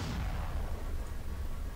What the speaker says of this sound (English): Lasers linked and ready. Fire at will.